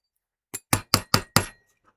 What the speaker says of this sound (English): I'm using a rubber hammer